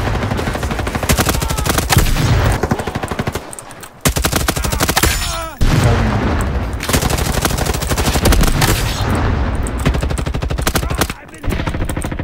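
Rapid automatic gunfire in Roblox Call of Duty, loud sustained bursts of machine-gun fire with short pauses between volleys, dense and close throughout with faint voices underneath.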